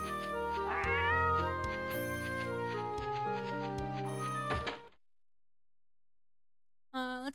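Meowing from a cat in the computer game Petz Catz 2: a run of clear, close, drawn-out meows for about five seconds, then silence, then one short cat call at the very end.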